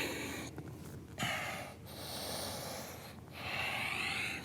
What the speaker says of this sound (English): A few deep breaths, breathing into the outer left hip.